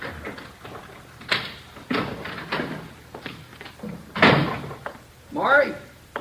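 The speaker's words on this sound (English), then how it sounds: "Yeah, kitchen door." A kitchen door opens and closes in a live radio crime drama, several knocks and thuds of wood and latch spread over a few seconds, close and fairly loud with brief voices between.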